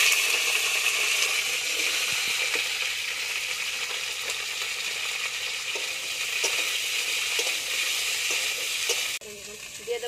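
Pui mituli, potatoes and eggplant hiss and sizzle steadily in hot tempered oil, a loud continuous frying sound with occasional clinks and stirring scrapes, briefly dipping near the end.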